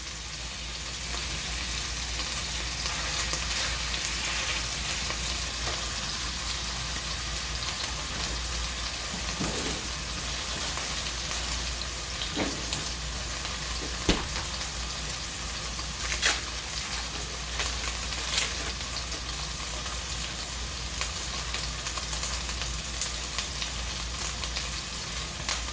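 A thin homemade burger patty fries in a hot pan, giving a steady, close crackling sizzle with scattered louder pops and spits, heard alone without talk.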